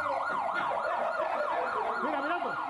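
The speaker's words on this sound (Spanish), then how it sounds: "No, la misma ambulancia." Loud wailing ambulance siren sweeping up and down in rapid repeated cycles, close by, with faint traffic rumble underneath.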